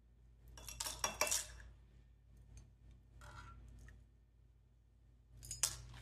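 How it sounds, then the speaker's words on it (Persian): Ice cubes are lifted out of a bowl of ice water holding falooda noodles, giving short bursts of clinking and clattering against the dish with quiet gaps between them. "یخ‌های روشو برمی‌داریم."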